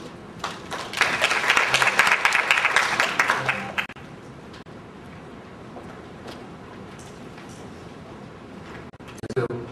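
Audience at a conference on medical infrastructure giving a short burst of applause for the next presenter, loud for about three seconds and then fading into quiet room noise.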